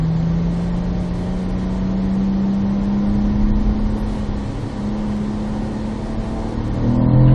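A car engine drones steadily and loudly at Spring Mountain Motorsports Ranch's North Track, holding a constant pitch that creeps upward, then rises in revs at the very end as the car picks up speed.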